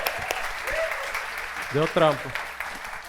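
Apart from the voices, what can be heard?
audience applause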